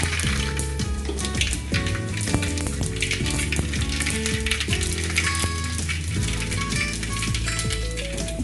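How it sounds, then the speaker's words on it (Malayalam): Mustard seeds spluttering in hot oil as a Kerala-style pepper chicken tempering begins, a dense continuous crackle and sizzle partly masked by loud background music. "അപ്പോൾ നമ്മുടെ എണ്ണ ചൂടായിട്ടുണ്ട് ഇതിലേക്ക് ഞാൻ ആദ്യം കടുക് ഇടുകയാണ്"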